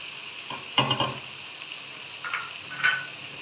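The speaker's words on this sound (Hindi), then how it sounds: "अभी इनको थोड़ा सा फ्राई कर लेते हैं।" Tomatoes, potatoes and finely chopped green chillies fry in a pan with a steady soft sizzle, broken by a few louder scraping stirs, near and without talk.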